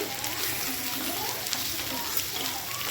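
Fish frying in oil with onions, a steady crackling sizzle that holds at an even level throughout, with faint talk beneath it.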